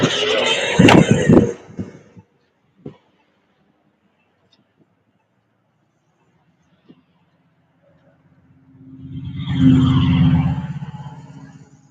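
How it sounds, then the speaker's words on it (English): Road traffic outside, with one car roaring past loudly at the start, a near-silent gap with faint knocks, then another vehicle approaching and passing with a swelling rumble. "the traffic."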